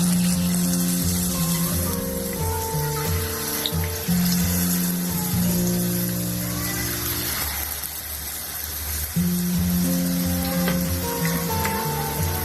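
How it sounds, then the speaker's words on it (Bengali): Spoonfuls of egg chips batter fry in hot oil, giving a steady crackling sizzle beneath a layer of tonal background music. "গরম তেলে এখন একটা আমি মেজারমেন্ট কাপে চামচের ব্যাটারটা দিয়ে দিচ্ছি"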